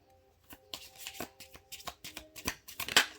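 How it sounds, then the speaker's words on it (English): A deck of tarot cards is shuffled by hand, a rapid run of crisp riffling and slapping bursts, close and fairly loud, with no talking. "We're going to shuffle again."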